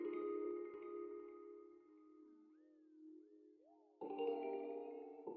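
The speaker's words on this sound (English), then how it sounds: "I'm going to put like a heavy delay on this." A sustained lo-fi trapsoul music sample runs under a heavy delay effect, its tones smearing and sliding in pitch as echoes trail off, then the full chord sample returns loudly near the end.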